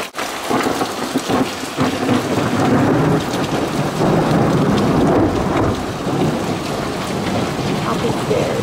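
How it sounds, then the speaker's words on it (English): Loud thunder rolls over a heavy rainstorm, deep rumbling swells rising and fading across the whole stretch over dense, hissing rain on surfaces nearby. "gonna wake up from this thunder because it's so freaking loud"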